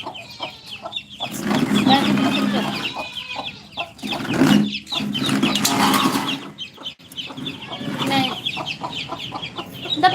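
Chickens cluck and squawk in an agitated flurry close by, with bursts of flapping and busy commotion throughout.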